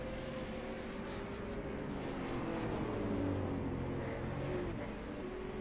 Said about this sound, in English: listening to the engine sound, it is definitely gone